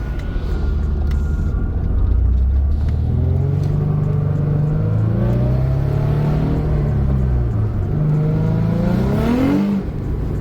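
A car fitted with an S-Tune aftermarket exhaust revs hard as it accelerates. The loud, close engine note climbs in pitch through the gears, with a gruff, raspy tone and no break.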